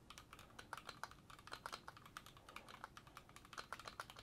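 Crisp, rapid clacking of keys on a mechanical keyboard with Gateron G Pro switches and a steel plate, an uneven typing rhythm of sharp clicks, close and fairly quiet.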